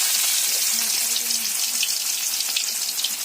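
Fish rubbed with turmeric, salt and chili sizzles steadily in hot oil in a village kitchen, a dense, even crackling hiss that holds for the whole stretch, up close, with no voices.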